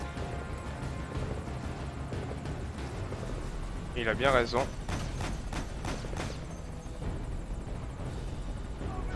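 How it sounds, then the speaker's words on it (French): A helicopter in Metal Gear Solid V: Ground Zeroes flying off, a whirring rotor drone with a brief louder burst midway beneath someone talking in French. "L'hélicoptère se casse."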